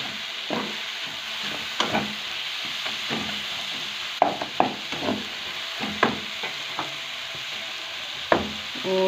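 Dry coriander being stirred into cauliflower sabzi as it fries in a pan, with repeated scraping strokes of the spoon over a steady low sizzle.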